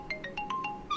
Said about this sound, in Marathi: पुष्कळ दिवसात आला फोन मोहनचा.